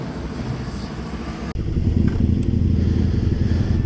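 A KTM Super Duke 1290 GT on the Modlin race track idles with a low rumble, then its engine swells louder and holds a steady, close roar as it pulls away.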